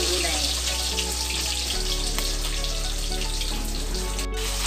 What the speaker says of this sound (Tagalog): Na piniprito ko.